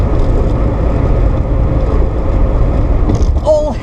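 A 369bhp classic Mini with a turbocharged Honda VTEC engine roars loudly and steadily under boost, its deep rumble mixed with wind buffeting. A voice is briefly heard near the end.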